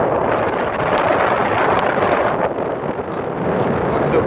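Strong wind buffeting the microphone on the exposed windy side of the Bonifacio walls, a loud continuous roar with a couple of faint clicks.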